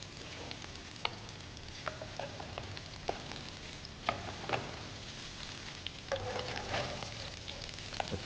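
Coriander-coated fish frying in oil in a pan gives a steady low sizzle and crackle, with scattered sharp pops and ticks, fairly faint and without talk.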